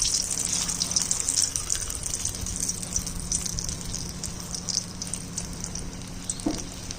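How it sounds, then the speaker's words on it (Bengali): Soft paneer cubes frying slowly with turmeric in hot oil, a steady close sizzle and crackle that runs continuously with no talking. "এখন আবার হলুদ দিয়ে ভেজে নিচ্ছি।"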